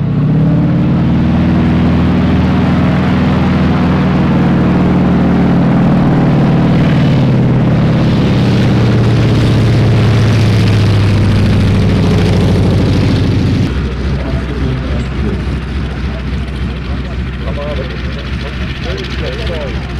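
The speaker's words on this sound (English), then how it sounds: "We are beginning to roll for hopefully a safe takeoff." Gee Bee R2 racing airplane's engine roaring loud and steady as it rolls for takeoff, the strong droning continuing before dropping to a lower rumble partway through, with voices talking over it.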